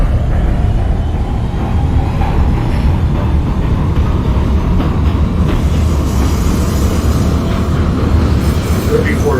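An NYC Subway R160 train on the Manhattan-bound F local, running in the OpenBVE simulator, rumbles steadily and loudly throughout, a continuous low roar of motors and wheels with no clear pauses.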